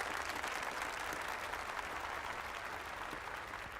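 A stage audience gives a sustained round of applause to welcome a guest, a dense, even wash of clapping that holds steady throughout, moderately distant with no talk over it.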